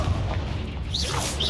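A Confringo blasting spell goes off in Hogwarts Legacy, a dull low boom with a brief whooshing tail, moderately loud and heard alone.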